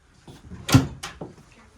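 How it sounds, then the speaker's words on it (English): A wooden barnyard-style sliding door in a cabin rolls and thumps in a short burst, with a sharp knock followed by a couple of lighter bumps, fairly quiet and close, no talking. "And we've got another barnyard door."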